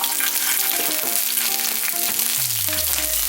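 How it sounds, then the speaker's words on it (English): Garlic and onion hitting hot oil for a spicy tomato chili sauce (sambal tomat), a loud continuous sizzle with stirring scrapes, close and steady throughout, no voices. "Now the oil start heating up. We can add our garlic and onion."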